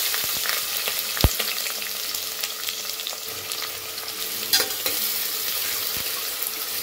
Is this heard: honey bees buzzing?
no